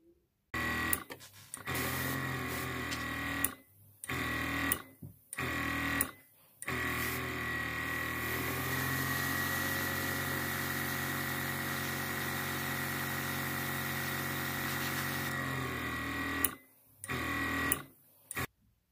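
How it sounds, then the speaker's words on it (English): An airbrush sprays green paint onto a model vehicle, a steady close hiss that runs in long bursts with brief pauses between passes and no talking. "we're going to airbrush this one green"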